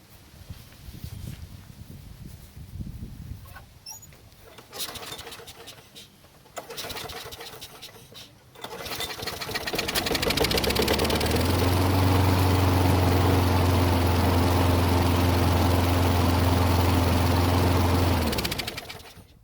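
A lawn mower engine, just serviced for a gas leak, is pulled and sputters a few times, then catches and runs at a steady loud drone for several seconds before cutting off.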